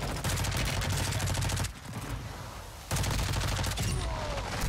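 Rapid gunfire from a Warzone 2.0 match crackles in dense, loud bursts, with a short lull before the firing resumes at full intensity.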